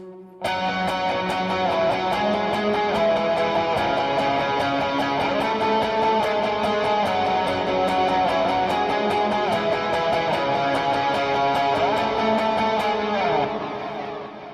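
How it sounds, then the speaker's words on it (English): A distorted electric guitar plays a steady run of octave notes in a continuous lead line, loud and close, running for about fourteen seconds before cutting off. "there's a cool octave part that goes in there."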